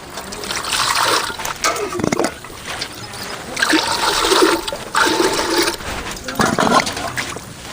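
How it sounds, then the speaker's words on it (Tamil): Water splashes and trickles close by in uneven bursts as it is poured into a cooking pot on the stove for drumstick soup, with faint background noise. "தண்ணி ஊற்றிக்கலாம்."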